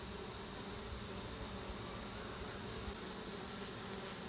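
Many bees buzz steadily in a homestead garden, a faint, continuous drone with no breaks and no talking over it.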